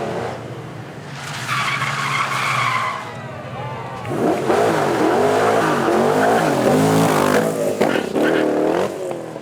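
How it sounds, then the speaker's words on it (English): An Ultimate GTR with a big American V8 mounted behind the driver roars past at a supercar weekend, with loud, rising engine revs and a crowd voice underneath. "Next up, our Ultimate GTR with that full fat American V8 in the back of it."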